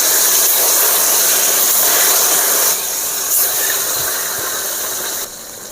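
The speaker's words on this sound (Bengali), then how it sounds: "মাছগুলো আমি কড়া করে ভেজে নেব।" Fish frying hard in hot oil in a home kitchen, a loud, steady sizzling hiss that drops a step partway through and again near the end.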